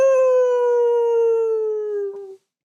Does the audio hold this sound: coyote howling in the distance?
yes